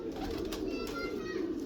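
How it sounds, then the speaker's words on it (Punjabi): A pigeon from a high-flying breed setup coos softly and up close in a short, low, rolling call against faint background noise. "ਇਹ ਕਬੂਤਰ ਨੰਬਰ 4"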